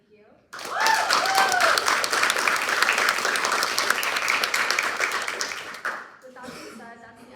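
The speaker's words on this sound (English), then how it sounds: "I want to give a huge round of applause to the judges" A live audience applauds the judges at a class demo day evening event, a dense, steady burst of clapping that starts abruptly, holds for about five seconds, then fades as talk resumes.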